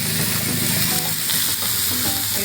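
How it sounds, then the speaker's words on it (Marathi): Tomato, green chillies and a handful of raw peanuts fry in a pan, giving a steady, close, loud sizzle with faint stirring and no voices throughout. "1 टॅमॅटो फ्राय करायला टाकलेला आहे आणि 2 हिरव्या मिरच्या फ्राय करायला टाकलेल्या आहेत"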